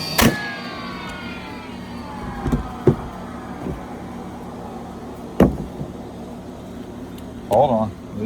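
A DeWalt 20V cordless brad nailer's motor whines loudly and falls steadily in pitch over several seconds, broken by a few sharp close clicks and knocks.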